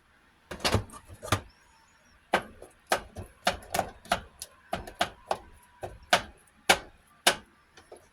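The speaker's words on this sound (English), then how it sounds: "I'm chopping it up real fine." A knife chops cooked chicken on a cutting board in a home kitchen for chicken and egg salad, sharp irregular thumps in short bursts and spaced single strikes, close and clear with no talk.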